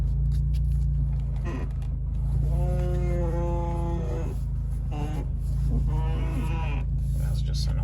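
A harsh whining noise comes from a car as the steering wheel is turned. Two tonal whining bursts rise over a steady engine rumble, loud and close.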